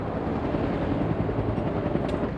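An AH-1 Cobra attack helicopter at an army aviation unit gives a loud, close, continuous roar of rotor and turbine that holds steady throughout, with no voices.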